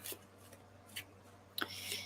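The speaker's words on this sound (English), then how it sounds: "I'm just shuffling my cards right now." Tarot cards are shuffled by hand in a quiet room, giving soft scattered riffles and flicks that swell into a denser, papery rush near the end.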